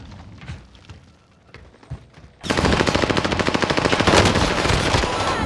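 Rapid, loud automatic fire from a C58 rifle in the video game Call of Duty Warzone erupts after a quieter stretch of ambient game noise and faint thumps, continuing steadily to the end.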